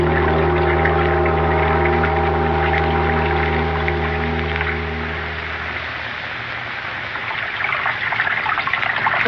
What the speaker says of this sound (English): Sound of water so loud.